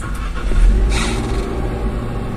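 A Nissan Serena being switched on, a brief low engine rumble swelling then holding steady, close and fairly loud with no talking.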